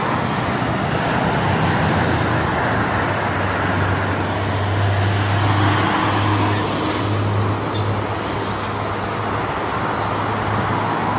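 Steady roar of heavy trucks and other traffic on the Jakarta–Cikampek toll road in the morning, a continuous close wash of tyre and engine noise with deep rumbling swells as big vehicles pass, no talk.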